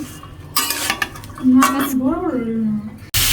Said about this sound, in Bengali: গুঁড়া মশলা দিয়ে মাছটি বেজে নেব